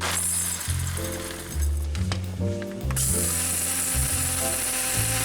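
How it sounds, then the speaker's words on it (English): Coffee beans are ground in a grinder whose close, steady whirring motor shifts pitch in distinct steps, with some clinking and no talk. "I gotta grind up the beans real quick"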